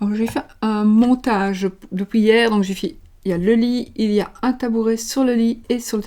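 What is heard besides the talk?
No distinct noise like a dog, phone or traffic.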